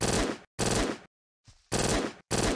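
Loud bursts of automatic gunfire in the video game Andromeda 2 Zombies come in four rapid rattling volleys separated by short silences, with a faint softer shot in one gap.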